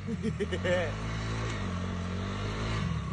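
A Honda motorcycle engine revs loudly and steadily, its tone rising and falling through a sustained drone, with voices talking over it near the start.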